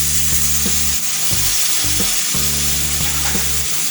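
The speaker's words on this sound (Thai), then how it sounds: "ก็เติมน้ำสักหน่อยนะครับ" A spicy wild boar stir-fry frying in a pan gives a loud, continuous sizzle with a low rumbling undertone and a few stirring knocks, close and steady.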